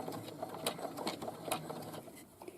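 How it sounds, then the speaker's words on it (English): A sewing machine stitches a pocket hem on a boomerang bag, running forward a few stitches and then back-stitching, a steady close mechanical whirr with rhythmic ticking of the needle throughout. "I'm going to do a couple of stitches forward, and then I'm going to back stitch all the way to the end."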